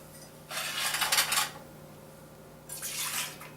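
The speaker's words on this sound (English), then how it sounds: "What you want to do is put in some veggie broth." Veggie broth pours into a soup pot in two splashing streams, the first lasting about a second and the second shorter. Both are close and moderately loud over a faint steady hum.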